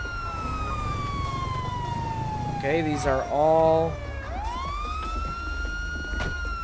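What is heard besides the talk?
police car siren in the video game GTA V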